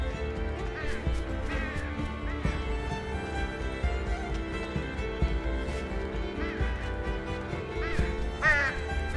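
Repeated squawking, quacking bird cries from the video game Unravel, scattered across the stretch over constant layered game music, with someone speaking at times beneath the calls.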